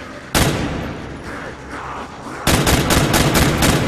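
Rapid gunfire in Call of Duty zombies on the Nacht Der Untoten map: a single loud shot, then a sustained burst of repeated close shots.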